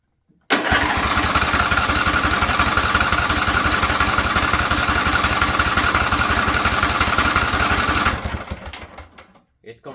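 A Husqvarna small engine catches abruptly and runs steadily at a loud, even idle for about eight seconds before cutting out, with no talk over it.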